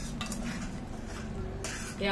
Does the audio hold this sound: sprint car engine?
no